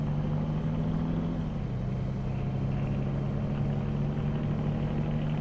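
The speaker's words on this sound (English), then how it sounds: "Nice engine sound." A heavy vehicle engine in Farming Simulator 19 runs steadily at close range, its deep droning hum holding constant with a slight pitch drop partway through, loud and continuous with no talk.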